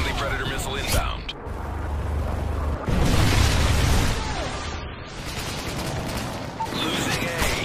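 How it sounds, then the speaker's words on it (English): A predator missile strike explodes in Modern Warfare 3 multiplayer, a loud sustained blast rumbling over continuous gunfire and battle noise, with a heavier boom surging around the middle before settling back into steady firefight clatter. "Friendly predator missile inbound."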